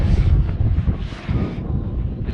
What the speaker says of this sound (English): it's windy, so I'll try and stay out the wind.